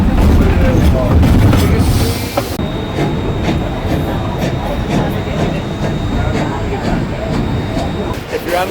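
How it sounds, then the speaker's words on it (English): Loud, continuous rumble and rattling of a moving rail car heard from on board a train, with a brief rushing change early on and people talking over the noise. "We're about to jump on the train."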